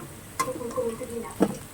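Fried potatoes are scooped and pushed aside in hot oil in a wok, giving two brief scraping stirs over a faint, close sizzle.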